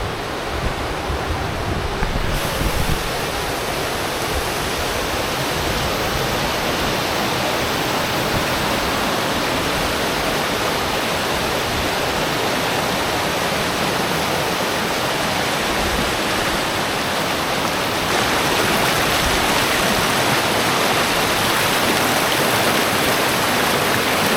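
A winter mountain stream on a hike to Ben Lui in Scotland, rushing water heard loud and close as a constant broadband roar throughout, with no talk.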